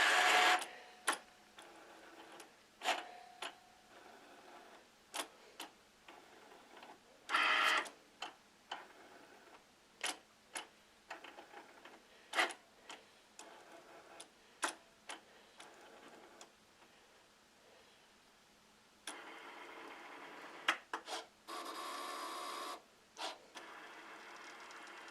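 A Cricut cutting machine scanning registration marks and cutting planner labels, giving a series of sharp ticks and brief mechanical whirs with short motorized bursts, fairly quiet and close, with no talk.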